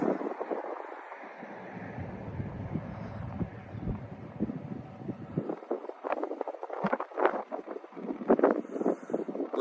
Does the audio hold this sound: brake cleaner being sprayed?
no